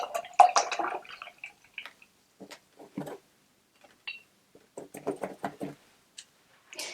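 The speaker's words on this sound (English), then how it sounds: "give your brush a wash" A paintbrush being washed in water during acrylic flower painting, faint intermittent swishes, taps and drips in short irregular bursts with quiet gaps between them.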